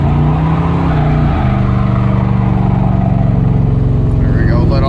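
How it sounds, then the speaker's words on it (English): A 1978 Trans Am fitted with Dynomax Super Turbo mufflers pulls under hard throttle, its loud, steady exhaust drone rising and shifting in pitch as the car drives away from a stop. "Just floor it and drive and let off because it's just going to spin like crazy."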